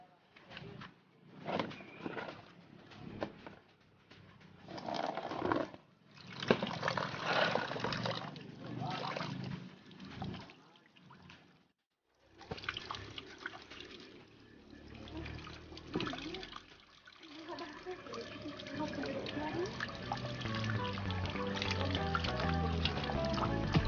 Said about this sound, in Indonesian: kita cuci singkong yang telah kita kupas